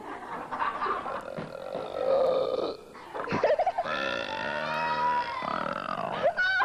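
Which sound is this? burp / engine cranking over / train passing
burp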